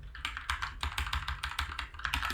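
Fingers type C code on a computer keyboard in a quick, uneven patter of close, crisp key taps, with no speech.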